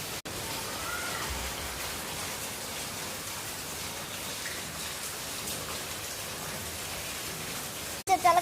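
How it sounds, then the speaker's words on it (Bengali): Heavy rain pours down steadily, a dense, even wash of drops on surfaces that stays loud and unbroken throughout, interrupted only by a couple of brief handling clicks at the start and near the end. "আর এদিকে মানে এত বৃষ্টি পড়ছে।"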